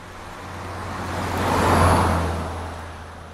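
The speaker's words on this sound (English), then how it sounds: "add into my project the actual car passing by as a reference track" A car passes by on a road, its rushing tire and engine noise swelling from moderate to a clear peak near the middle, then fading away smoothly as it recedes.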